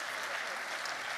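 Audience applause at the ZeroCon24 award ceremony, a steady dense wash of many hands clapping at moderate distance, even in level across the whole moment with no voices over it.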